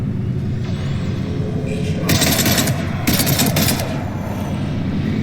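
Automatic weapon fire in Mass Effect 3 rattles over a constant rumbling battle backdrop, with two louder, harsher bursts of shooting in the second half.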